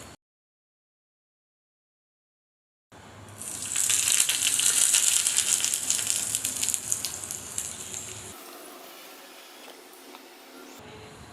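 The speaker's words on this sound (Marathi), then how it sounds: "आता ही गरम गरम फोडणी जी आहे ती आपण ह्या चटणीवर घालायची आहे" A hot tempering of mustard seeds and curry leaves is poured over onion chutney, giving a loud close sizzling hiss that swells quickly, holds for several seconds, then fades.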